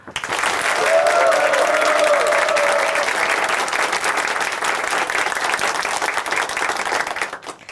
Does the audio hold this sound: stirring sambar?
no